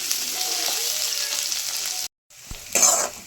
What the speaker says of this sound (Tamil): எண்ணெய் நல்லா சூடானதும் மெலிசாக வெங்காயம் கட் பண்ணி வச்சுருக்கேன்.